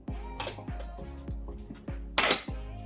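A whisk beats milk and vanilla extract into a pale, creamy tres leches cake batter in a bowl, giving repeated rhythmic metallic clinks and taps against the bowl at a close, moderate level with no speech.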